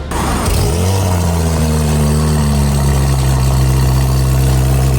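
A Porsche GT3 engine fires up with a sharp burst and then settles into a loud, steady, throaty idle close by, with no talking.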